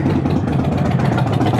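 A Harley-Davidson motorcycle engine running close by, a loud, steady, low throbbing rumble with a fast uneven pulse, heard alone without voices.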